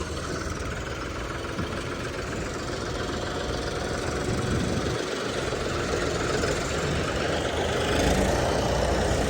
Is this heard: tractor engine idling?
yes